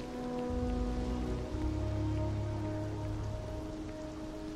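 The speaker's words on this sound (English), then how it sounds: "Oh, it's raining." Rain falls in the video game Starfield, a steady hiss of drops on surfaces mixed with low sustained tones, even and moderately loud throughout.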